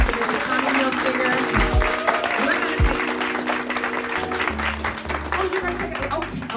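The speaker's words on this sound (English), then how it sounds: "please give a huge round of applause to the Tommy Hilfiger." Audience applause at a fashion designer retreat event, a steady wash of clapping sustained throughout with voices talking over it and a low rumble underneath.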